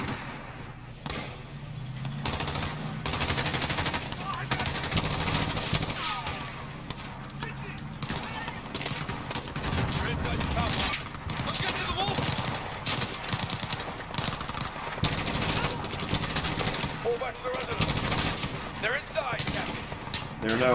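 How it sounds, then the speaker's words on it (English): Rapid automatic gunfire in Modern Warfare (2019) during The Embassy mission, with steady bursts and thumping shots running throughout over the game's battle noise while a player talks. "We're taking fire from the residents."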